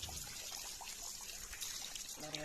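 Water splashing and trickling over a Royal Enfield Bullet motorcycle as it is washed on a sunny winter day, a steady faint flow with small splashes throughout.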